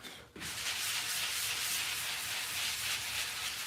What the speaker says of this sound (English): go back over it, sand it lightly